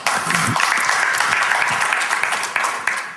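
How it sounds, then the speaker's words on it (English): An audience at a persuasion seminar claps steadily and densely for about three seconds, loud and close, fading slightly at the end. "Give them a round of applause."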